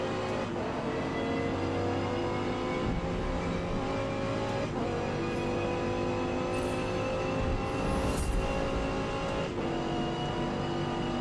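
Dodge Viper engine in the racing game Forza Motorsport, a steady loud engine drone with gear-change shifts and other cars around during a multiplayer race, no talking.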